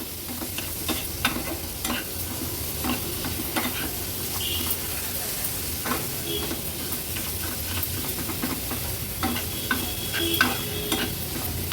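Finely chopped small shrimp frying in masala are stirred in a pan, with continuous close sizzling and hissing broken by scraping stirs.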